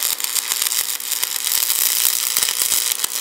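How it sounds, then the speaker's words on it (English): Stick welding arc from a cheap AC-100 110v welder, a harsh continuous crackling buzz with rapid sputtering pops at close range and no talk. "And we're welding."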